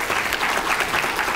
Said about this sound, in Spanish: Un aplauso, hay que motivarlo